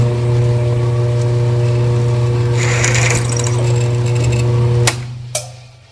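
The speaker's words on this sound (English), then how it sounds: "We'll just drill to the stop." A Grizzly G0602 lathe hums steadily at close range while a drill bit bores a shallow hole to a stop, a brief rougher cutting noise building midway, then the motor winds down with a couple of clunks.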